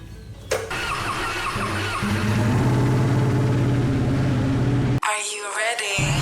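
A motorcycle engine cranks and catches, then runs and revs up close with a rising, rough drone before it cuts off abruptly, leaving a brief burst of other sound at the end.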